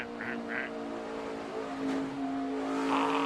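A NASCAR race car engine at the 2008 Kobalt Tools 500 roars steadily and close as the car runs high along the steel wall, its pitch holding high with a slight rise toward the end; no voices.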